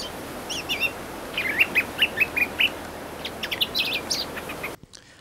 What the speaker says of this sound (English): nature abounds everywhere, like that lovely song thrush